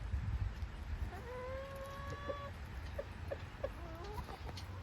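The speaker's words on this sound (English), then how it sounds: "Wonder how these hens would react." Backyard hens near a curious chick cluck and give a drawn-out vocal call, faint and somewhat distant over low rumbling background noise.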